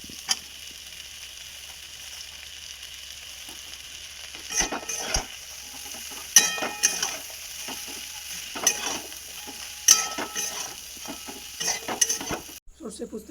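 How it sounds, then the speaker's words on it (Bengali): Chopped pumpkin greens cooking in a pan with salt, turmeric and chilli powder: a soft, steady sizzle punctuated by sharp metallic scrapes and clinks of a spatula stirring at irregular intervals, with no speech. "কেটে রাখা কুমড়ো শাক দিয়ে দেবো"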